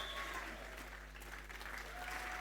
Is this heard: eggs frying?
no